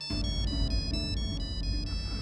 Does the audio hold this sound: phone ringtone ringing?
yes